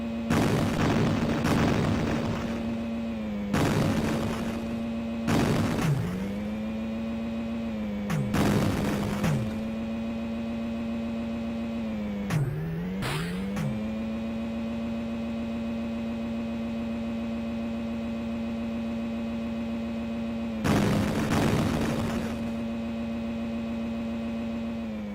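Top-down Amiga racing game Supercars 2 by Gremlin: a steady droning car engine tone runs throughout, broken by repeated loud bursts of explosions, several clustered early and another near the end.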